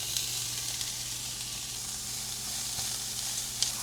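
Ground beef frying with softened onions in a single pan for shepherd's pie, making a steady, moderate sizzle over a low hum, with a couple of brief clinks and no speech.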